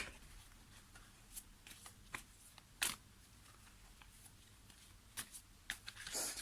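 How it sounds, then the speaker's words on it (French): A deck of tarot cards is shuffled by hand nearby, with soft riffling and a few sharper slaps and flicks, quiet with no talking. "je vais brasser les cartes"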